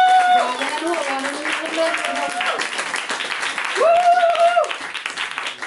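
Audience applause at a poetry slam final, steady clapping from a crowd that rises and fades while a presenter speaks over it.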